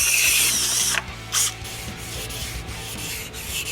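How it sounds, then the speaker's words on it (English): A drill bores holes through aluminum strips meant to extend pedal car rods, a loud grinding, rubbing whir that comes in bursts with brief pauses and shifts in pitch. "I'm drilling holes to attach them to the original rods."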